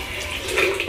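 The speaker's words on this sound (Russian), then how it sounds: "Заливаем 300 мл воды" Water pours into a blender jar over sprouted barley, about 300 ml pouring in steadily as a moderately loud, continuous splashing stream, with no voices.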